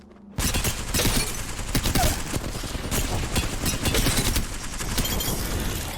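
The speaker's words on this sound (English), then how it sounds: "They're getting shot." Gunfire in Apex Legends erupts after a brief quiet start, a dense, loud barrage of rapid overlapping shots that continues steadily to the end.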